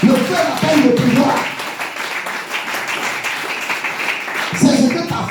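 A church congregation applauds and cheers in praise, a dense, continuous wash of clapping and voices that holds for several seconds and swells again near the end.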